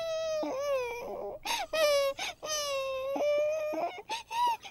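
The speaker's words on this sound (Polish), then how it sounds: "O, dziecko płacze." An infant cries loudly and close by in drawn-out wails, broken by short sobbing gasps and whimpers, with no talking over it.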